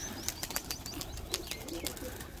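Pigeons burst out of a loft with quick, repeated wing flaps, a flurry of soft, close flutters that comes and goes with faint chirps in the quiet open-air background.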